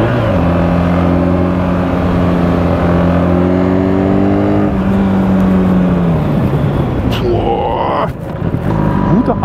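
A BMW R1300GS motorcycle rides at speed with a loud, steady engine drone that winds down as an emergency brake test slows it, followed by a brief rise in engine tone near the end.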